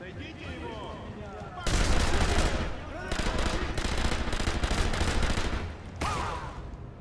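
Enemy soldiers in the video game Sniper Elite V2 open fire in loud, dense bursts of rapid gunfire. The bursts start and stop abruptly, with short lulls between them.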